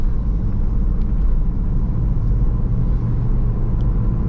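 A 2014 Honda Mobilio heard from inside the cabin gives a steady, loud low engine and road rumble as it gathers speed in fourth gear on a main road.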